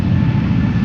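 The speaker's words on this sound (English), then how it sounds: "This is Delta Airlines flight 49 to New York, JFK. It's an A330neo, a year old, first flight May 2023." A year-old Delta Airlines Airbus A330neo jet departs Amsterdam Schiphol, its engines a loud, steady, low roar heard close up, with no talking.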